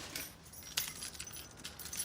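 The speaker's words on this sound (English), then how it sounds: "Car keys, come on." Car keys jangle in a faint, continuous metallic rattle with one sharper clink near the start, heard alone with no talk over it.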